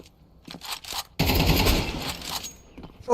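Counter-Strike 2 collegiate match: a few faint clicks, then a dense burst of automatic rifle fire lasting over a second before tapering off.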